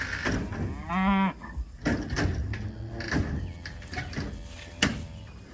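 Angus cattle on a trailer give a single loud, drawn-out moo near the start, followed by metallic clanks and shuffling from the trailer.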